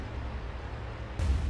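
A tank's main gun firing in World of Tanks, one abrupt heavy boom breaking a steady low background hum, with a deep rumbling tail.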